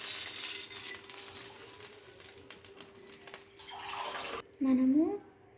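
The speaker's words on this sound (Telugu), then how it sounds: "ఇలా ప్యాన్ వేడెక్కిన తర్వాత ఆయిల్ వేసిన తర్వాత కొన్ని వాటర్ అయితే వేయాలి" Water poured into a hot pan with ghee gives a loud, sustained hissing rush that stops abruptly near the end. A short voice-like tonal sound follows.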